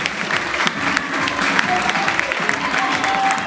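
Stadium spectators at the Polish youth athletics championships in Inowrocław applaud the 4x400 m relay runners. The clapping is loud and continuous, with a broad crowd roar throughout.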